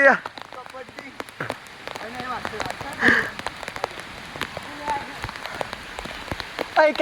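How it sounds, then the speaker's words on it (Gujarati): Heavy monsoon rain pours steadily on an outdoor surface with scattered drop impacts, a brief voice and a few sharper knocks rising above the constant hiss. "કેવું વરસાદ આવ્યો છે"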